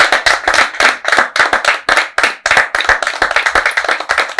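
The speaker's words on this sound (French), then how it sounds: "applaudissez pour vous-même" An audience at a live stage show claps in unison, with sharp, evenly paced near claps repeating steadily and loudly throughout.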